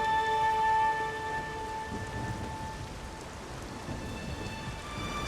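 Rain pours steadily during a thunderstorm in the game The Witcher 3, a dense hiss with a low rolling thunder rumble at the start and sustained tonal notes drifting above it.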